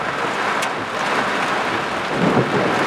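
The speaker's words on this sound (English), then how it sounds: "That was a close lightning strike." Thunder from a close lightning strike during a supercell storm in southeast Queensland, a loud rumbling roar swelling over heavy rain and wind, building toward the end.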